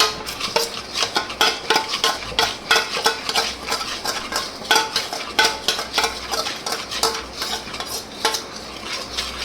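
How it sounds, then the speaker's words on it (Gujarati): Gram flour is stirred into hot sugar syrup in a pan, the utensil scraping in quick, rhythmic strokes with soft sizzling underneath, close and steady with no talking. "આવી રીતે હલાવતું રહેવાનું"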